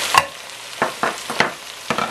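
Pork belly browns in a pan, giving a soft continuous sizzle broken by several short scraping stirs spaced about half a second apart. No one speaks.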